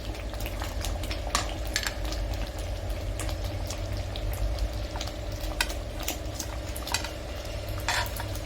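Paneer sizzles as it fries in masala in a pan, a steady close crackle punctuated by light clinks of stirring.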